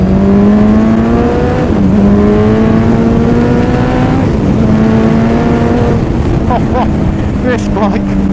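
A powerful motorbike accelerates away along an open road, its engine note climbing through rising harmonics with brief dips at gear changes, loud and close throughout with continuous wind rush; a voice speaks briefly near the end.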